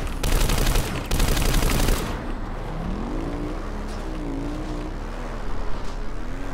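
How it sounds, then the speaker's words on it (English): Gunfire in Planetside 2, two loud bursts of rapid automatic shots in the first two seconds, then a vehicle engine whining up and down in pitch. "We appear to be getting shot at."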